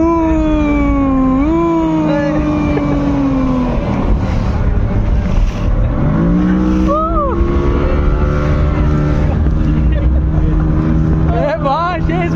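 A speedboat on the sea at Digha beach, its engine droning loud and close with rising and falling pitch as the boat speeds, wind buffeting, and riders' voices cutting in over it.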